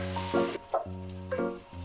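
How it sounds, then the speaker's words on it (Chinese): Small pieces of tomato stir-frying in melted butter with diced onion, a steady close sizzle broken by a few quick scraping stirs of a spatula against the pan. "煸炒至出香味， 然后我们放入之前切好的小块的西红柿"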